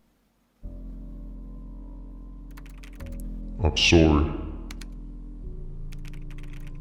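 Keyboard typing inside a Roblox horror video game, a steady clatter of keys under a low game drone, with a brief spoken line partway through.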